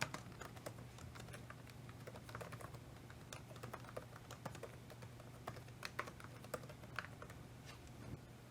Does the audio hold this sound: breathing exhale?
no